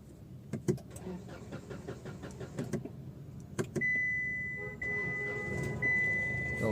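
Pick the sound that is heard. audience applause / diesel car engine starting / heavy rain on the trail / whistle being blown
diesel car engine starting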